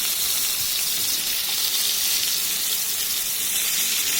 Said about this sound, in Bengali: আলু আর পটল একসাথে ভালো করে ভেজে নেব।